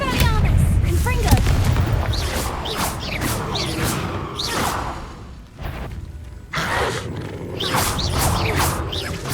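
Loud booming spell blasts from the Confringo fire spell in Hogwarts Legacy, several sharp explosive bursts with whooshing tails spread across the stretch, mixed with combat effects and brief vocal grunts.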